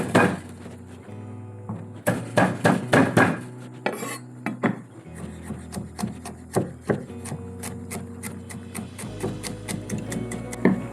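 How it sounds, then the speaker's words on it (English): A kitchen knife chopping three garlic cloves on a wooden board for a masoor dal tadka, a run of crisp, quick taps that speeds into a steady rhythmic patter, close up with no talking. "I've got 3 cloves of garlic. You can slice it or chop it. I'm going to chop it."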